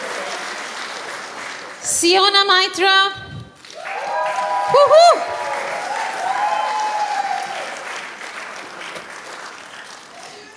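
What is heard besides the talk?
audience applause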